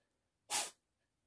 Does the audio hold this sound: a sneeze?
yes